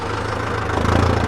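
A tractor engine runs steadily in forward gear on a farm, a close, loud low diesel throb with an even knocking pulse, alone without voices.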